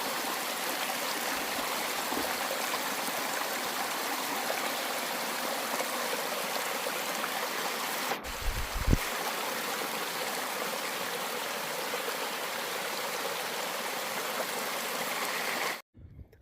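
Clear mountain stream flowing steadily on a high trail between lakes and passes, a continuous close rushing and trickling of water with a brief louder splash midway before it cuts off abruptly.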